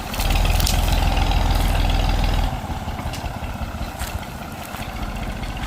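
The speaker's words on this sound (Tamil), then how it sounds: "அங்கே டிராக்டர் ஏற்றி கொண்டு போகுது." A tractor engine runs loudly and close by while it is loaded on a banana farm. Its heavy low rumble drops in level partway through and then keeps running steadily.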